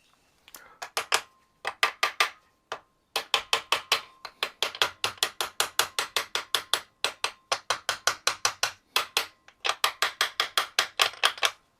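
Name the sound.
tapping oil pump off Kawasaki Z1A 900 engine with small hammer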